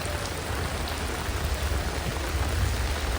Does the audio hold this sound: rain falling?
yes